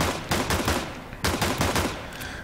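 Dual-wielded pistols fire in a video game in two rapid bursts of sharp, closely spaced shots, separated by a short pause, with no voices.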